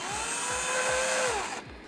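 A power drill runs steadily while assembling a Maidesite S2 Pro sit-stand desk, its whine rising and holding before cutting off near the end, with repeated low thumps under it and no talk.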